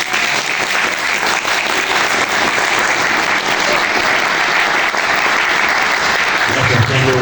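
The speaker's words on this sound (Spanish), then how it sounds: "Esas palmas." Audience applauding at a book presentation: loud, dense, sustained clapping from a crowd, steady throughout and close, with a brief voice near the end.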